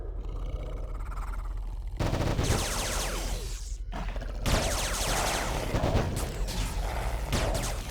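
Pistol gunfire in the video game Anarchy Online, a weak, muffled bang-ish report repeating in quick bursts over a rumbling game soundscape, with no speech.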